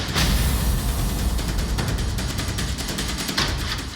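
An L-70 air defence gun fires in a rapid, steady stream of sharp shots, loud and continuous across a few seconds, with no voices.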